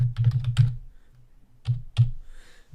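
A computer keyboard being typed on manually, with a rapid cluster of clacking keystrokes followed by a pause and a few separate, louder key taps, close and dry.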